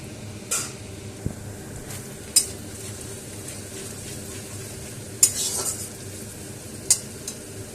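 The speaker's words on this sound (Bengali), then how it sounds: "এবারে ওর মধ্যে আমি দিয়ে দিচ্ছি রসুন কুচি" Chopped garlic sizzles in about three spoons of white oil in a kadai, a soft continuous frying hiss broken by several sharp scrapes and clinks of a spoon stirring against the pan.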